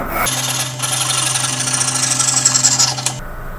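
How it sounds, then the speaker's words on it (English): A panel handsaw cutting through wood held on a lathe, a continuous rasping, raspy sawing stroke sound lasting about three seconds, close and loud, ending abruptly. "So I'm actually going to go get a handsaw, finish cutting that off."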